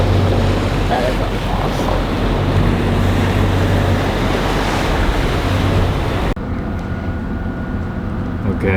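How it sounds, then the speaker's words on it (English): Heavy ocean waves crash against the hull of a Nordhavn trawler at sea at night, a loud continuous roar of surf and wind that drops in level partway through, with no speech. "Every once in a while, you get a big wave and it's hitting right on the"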